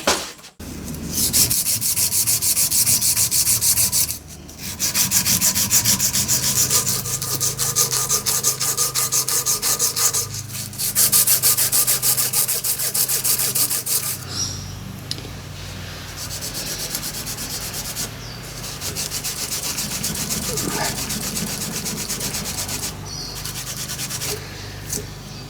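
A dark green coarse-grit Cratex abrasive point works over a cast brass machinist hammer, giving a steady, close rubbing and grinding hiss in long continuous passes with a few brief pauses between strokes.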